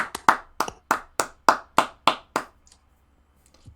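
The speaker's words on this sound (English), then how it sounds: "let's give a round of applause for Russell Wilson" A small group gives a brief round of applause on a football sports talk show, about nine crisp, evenly spaced claps in quick succession, close and clear, then silence.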